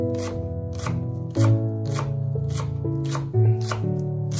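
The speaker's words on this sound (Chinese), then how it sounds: "准备一把小葱，直接把它切成葱花" Repeated knife strokes slicing through a bunch of scallions into small rings on a cutting board, a steady quick rhythm of close, crisp chops under faint background music, with two brief louder thuds partway through.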